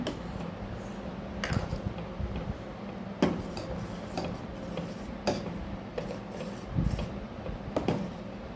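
Spoon stirring ingredients in a cooking pot, with irregular light metallic taps and scrapes spread across a quiet kitchen background.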